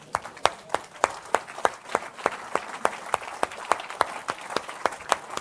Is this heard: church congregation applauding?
yes